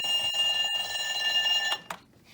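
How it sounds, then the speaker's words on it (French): Electric bell ringing loud and continuous on an Our Generation toy school room set, with a bright metallic trill that stops abruptly and is followed by a couple of small clicks. "La cloche, elle va sonner."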